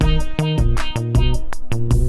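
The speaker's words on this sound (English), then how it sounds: "Next up, we have a chord, which is a pretty simple chord." A simple synth chord sustains steadily as a background music layer, with sharp rhythmic hits and note changes playing over it in a loud, close mix.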